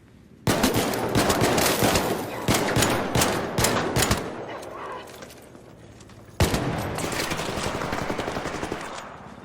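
Loud, close bursts of rapid automatic gunfire from a shooter game, ARC Raiders, come in two long volleys separated by a brief lull, with a faint voice underneath.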